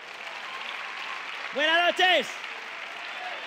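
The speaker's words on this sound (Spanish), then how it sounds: "Un aplauso para él." An audience applauds at a live comedy monologue show, giving a steady, even wash of clapping that continues under a man's brief spoken greeting in the middle.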